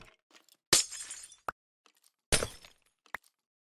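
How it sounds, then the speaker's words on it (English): Glass shatters twice in a video game, each a sharp, loud crash that crackles and fades over about half a second, followed by a brief clink. No one speaks. "This allows us to then break glass."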